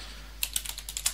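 Rapid typing of a command on a computer keyboard while setting up a bootable Kali Linux USB drive, with eight or so crisp, close key taps in an uneven rhythm over about a second, heard alone.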